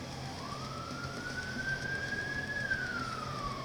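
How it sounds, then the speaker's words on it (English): An ambulance siren outside, a single wail that rises and sweeps back down as it passes at moderate distance, heard indoors over a steady cooling-fan hum from a graphics card overclocking session. "Always with the ambulances."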